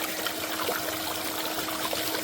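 Water running through a gold prospecting sluice box, a steady rushing, trickling flow at a constant level with no voices.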